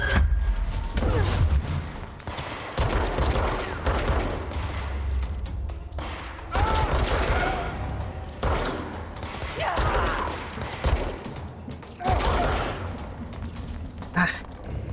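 Repeated bursts of gunfire and heavy thuds from the video game Control, loud and close, coming in irregular clusters over a steady rumbling backdrop.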